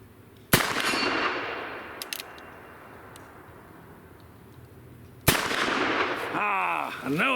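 Two sharp, loud gunshots from a Ruger Super Blackhawk .44 Magnum revolver loaded with hot deep-curl rounds ring out at an outdoor range several seconds apart, each trailing off in a decaying echo, with a brief metallic clink between them.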